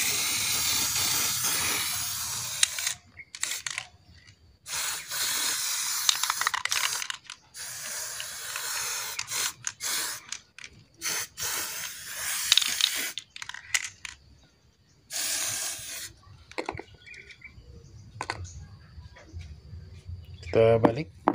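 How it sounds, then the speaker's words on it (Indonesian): Clear lacquer is sprayed from a can onto an old antique piece, with repeated hissing bursts of a few seconds each, separated by short pauses, loud and close. "Kita semprot ya."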